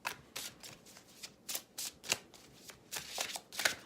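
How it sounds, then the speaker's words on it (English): A deck of tarot cards is shuffled in a series of quick, crisp riffling bursts, each a short papery flutter with brief pauses between, close and fairly soft. "I had to just concentrate on shuffling for a second"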